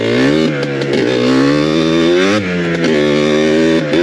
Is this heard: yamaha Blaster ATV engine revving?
yes